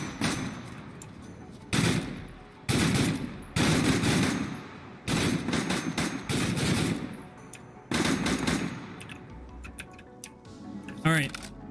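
Fully automatic rifle bursts ring out in Dead Matter, several loud sustained volleys separated by short pauses, with a person talking between and over the firing.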